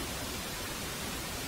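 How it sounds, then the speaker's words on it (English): Pink noise, a steady, even hiss with a soft, rushing low end that holds constant and fairly quiet throughout, with nothing else heard. "If you're ever bored and you want to listen to noise, I recommend pink noise."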